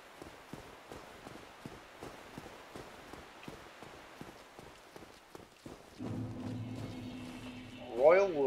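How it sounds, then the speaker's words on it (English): Footsteps in the video game Dark Souls pad along in a quick, steady rhythm, fairly quiet and close, before a low droning tone swells up and takes over near the end. "I hear footsteps."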